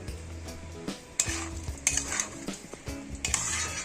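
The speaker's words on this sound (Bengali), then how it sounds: "ভালো করে নেড়ে নিয়েছি।" Washed rice for a thin Bengali vegetable khichuri being stirred in a pot: repeated scraping and knocking strokes of a spoon against the metal over a faint sizzle, irregular in rhythm and close by, without talk.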